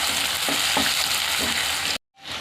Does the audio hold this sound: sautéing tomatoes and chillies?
yes